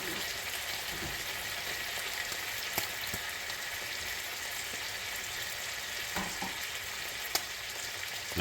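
A steady, close sizzle of a bone-in ham steak frying in a pan with its juices, constant popping and hissing with an occasional faint tick.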